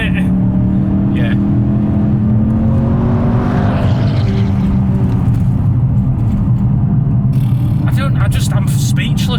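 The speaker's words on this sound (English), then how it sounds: "plant the throttle right to the bottom and you rocket up to 60 in dead on 4 seconds" A performance Ford RS, a hotter version of the standard model, accelerates hard at full throttle, its engine note rising loud and close inside the cabin. Occupants talk over the roaring engine throughout.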